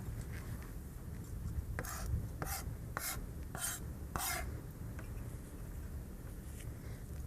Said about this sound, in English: just want to kind of smash that garlic